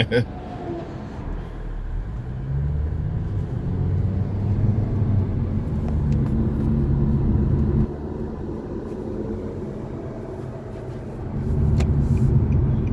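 Road traffic passing on a drive through Bennington, Vermont, heard as a steady low rumble of vehicles swelling near the end, with talk over it.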